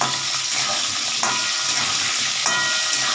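Cubed potatoes fry in oil in a pan, making a loud, continuous sizzle with faint scraping as they are stirred, and no voices.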